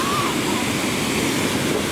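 Huge ocean waves break at Puerto Escondido, a constant loud roar of surf with a wind-buffeted wash and no clear breaks.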